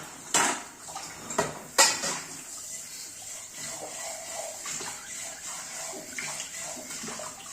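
Clattering dishes and pots with a few sharp clinks early on, then softer scrubbing with a ladleful of leftover batter and handling noises close by, with water in the background.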